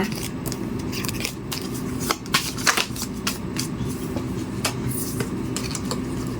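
Tarot love message cards are shuffled close up in steady soft riffling and sliding, with a few sharper slaps and flicks, against a low constant background hum.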